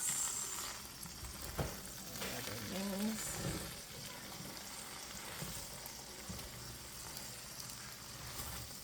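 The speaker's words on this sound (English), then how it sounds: "So we're gonna mix." Jollof rice is stirred in a non-stick pot, a quiet soft sizzle with a few scraping stirs near the start, and a voice is briefly heard early on.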